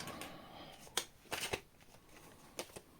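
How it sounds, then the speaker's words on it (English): Tarot cards shuffled by hand in a few quick, crisp riffling bursts and snaps, close and fairly quiet, with short pauses between them and no talk. "Last shuffle."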